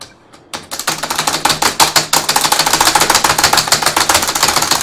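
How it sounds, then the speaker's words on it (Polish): Rapid, forceful key strikes hammer on a new computer keyboard during a frustrating Mario game session, loud and close, in a dense irregular clatter after a brief quiet start. "Czy napierdalać w moją nową klawiaturę do cholery jasnej?"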